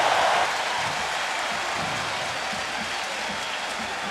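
Sold-out crowd of 79,000 at Doak Campbell Stadium during a college football game, a dense, steady roar of cheering and noise that stays loud throughout, with no break.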